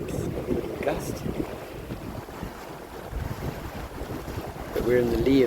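Wind gusts over a small 14'6 gaff-rigged boat broad reaching on flat water off Greece, a steady rushing roar of wind and water that swells louder near the end.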